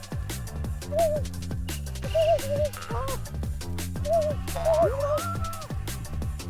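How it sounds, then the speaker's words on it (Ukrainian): An owl in the puzzle game Samorost 1 hoots several times in short wavering calls over a layered, steady ambient game soundtrack, with no talk. "сова роздуплилась"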